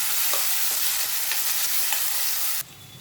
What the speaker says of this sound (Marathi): यामध्ये वाळलेली मिरची घालत आहे घालायचं परतून घ्यायचा आहे